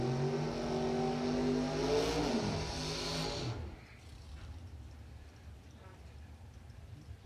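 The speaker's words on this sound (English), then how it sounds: "They're going to do their burnouts" Drag racing cars with radial tires do burnouts, engines revving hard and loud with rising and falling pitch for a few seconds before dropping to a quieter, distant rumble.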